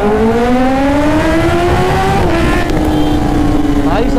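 A Kawasaki ZX-10R sport motorcycle pulls away at full throttle in first gear on a road, its loud engine note climbing steadily in pitch throughout, close and continuous with no voices over it.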